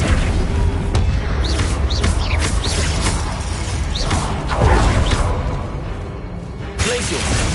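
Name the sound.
Flipendo spell cast in Hogwarts Legacy video game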